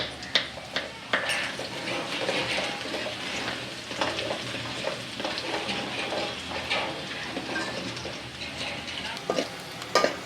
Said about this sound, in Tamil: வெங்காயம் நல்லா வதங்கிடுச்சு பாருங்க